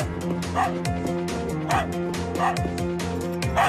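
A cartoon dog barks and yips in a quick repeated series, with whimpering tones, loud and close, over background music or effects.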